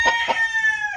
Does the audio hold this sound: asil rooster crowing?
yes